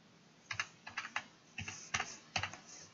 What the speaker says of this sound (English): You want to type in cmd.